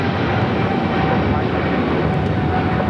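A heavy jet takes off from runway 25 right at LAX as a loud, continuous broadband engine roar that holds steady and close throughout.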